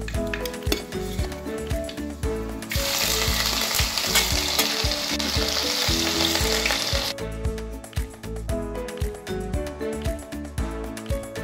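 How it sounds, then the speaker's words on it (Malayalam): Crushed ginger, garlic, slit green chillies and curry leaves sautéing in hot oil for a Kerala fish head curry: a loud, bright sizzle with repeated close spoon scrapes and pan knocks, no voices. "ഇഞ്ചി ചതച്ചതും 10 അല്ലി വെളുത്തുള്ളി ചതച്ചതും 3 പച്ചമുളക് കീറിയതും ആവശ്യത്തിന് കറിവേപ്പിലയും കൂടി ചേർത്ത് കൊടുക്കുക"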